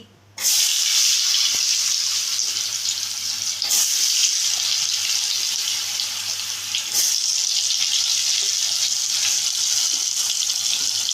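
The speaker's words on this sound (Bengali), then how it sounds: "আলুগুলোকে আমি এই তেলের মধ্যে একটু ফ্রাই করে নিচ্ছি" Steady hissing sizzle of potatoes frying in hot oil, continuous and fairly loud throughout, with a couple of brief stirring bumps.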